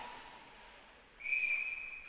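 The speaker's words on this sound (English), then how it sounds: "we're going to whistle on a puck played with a high stick" A referee's whistle blows during an ice hockey game, called on a puck played with a high stick, a sharp shrill blast lasting about a second over steady arena crowd noise.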